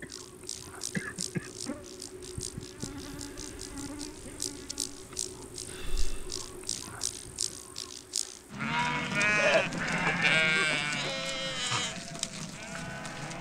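Sheep bleat repeatedly over a steady insect-like buzz, with a dense chorus of calls swelling loudly in the second half, from a nomadic herd in Mongolia.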